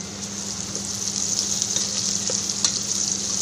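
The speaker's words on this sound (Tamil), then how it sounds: "வெங்காயம் கொஞ்சம் ப்ரௌன் ஆகிற வரைக்கும் நம்ம வதக்க போகிறோம்" Sliced onions and curry leaves sauté in hot oil with a loud, dense, continuous sizzle, close up, with faint stirring clicks scattered through it and no voices.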